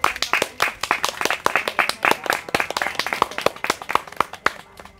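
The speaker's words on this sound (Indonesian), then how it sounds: "Kita tepuk tangan ya untuk Ibu." A group of people applaud for a guide at the end of a field study walk through an urban neighbourhood, many overlapping hand claps in a steady, close burst with a few voices underneath.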